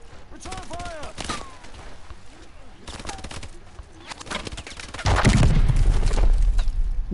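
Gunfire in the Call of Duty: Advanced Warfare campaign, with repeated bursts of sharp shots in clusters, some chirping effects and shouted voices over them, then a louder, denser roar of fire and rumble near the end.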